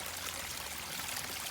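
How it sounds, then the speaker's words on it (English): A garden waterfall splashes steadily into a fiberglass basin taken from a freestanding water feature, giving a continuous, even hiss of falling water, close and with no voices. "So this waterfall right here,"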